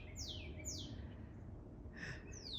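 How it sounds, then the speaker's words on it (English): Several short, bright bird chirps sound outdoors, two quick descending tweets early and another cluster near the end, faint against quiet background noise with no talk. "There's a bird."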